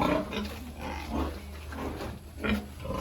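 A boar pig on a small farm gives repeated low, rough grunts in short irregular bursts, close and fairly loud, with no talking.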